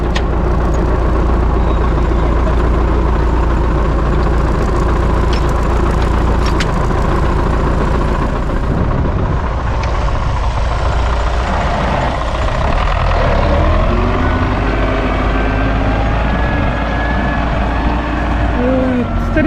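A tractor pulls a PLN 3-35 plough with plastic moldboards through heavy, wet corn stubble left unploughed for three years: a loud, close, continuous engine drone and labouring rumble, with a voice heard over it.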